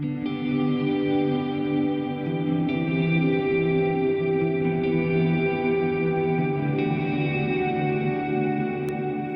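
Electric guitar playing open triad chords through a big, effects-heavy worship-style tone: sustained, shimmering chords that wash into one another with lush modulation and echo, changing every few seconds, loud and close with no talking.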